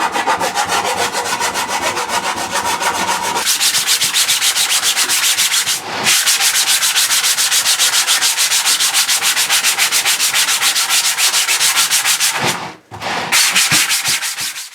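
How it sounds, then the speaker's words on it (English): A 3D-printed plastic BB-8 droid ball being sanded by hand, loud close continuous scratchy rubbing with fast regular strokes, broken by two brief pauses. "can take those off with a file and with hand sanding"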